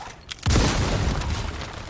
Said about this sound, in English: Whoa, pretty big explosion for such a small-looking grenade.